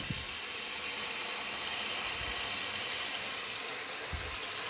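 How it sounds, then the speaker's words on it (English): Hot water gushes steadily from a tap into a sink, a constant bright hiss of filling water with a few faint low knocks underneath. "I'm going to fill up the sink."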